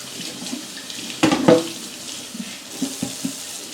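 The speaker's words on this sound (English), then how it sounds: "Rinse this for a minute." A kitchen tap runs while hands are rinsed after handling chicken wings, a steady soft wash of water with a brief louder splash partway through and small clatters of movement under it.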